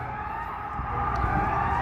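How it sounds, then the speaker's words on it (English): Sustained wailing sirens of emergency vehicles on Michigan Avenue in Chicago, loud and continuous over steady street traffic noise. "There's a bunch of sirens coming down Michigan Avenue here."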